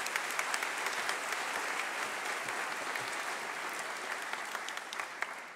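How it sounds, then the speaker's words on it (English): Steady applause from a conference audience honoring the poster honorable mentions, dense and continuous from start to finish at moderate volume, with no voices over it. "we should have a round of applause for the honorable mentions as well"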